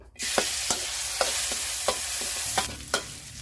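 Continuous loud sizzling of curry paste and garlic stir-frying in oil in a wok, punctuated by repeated scraping clicks of a utensil stirring, close and without talk.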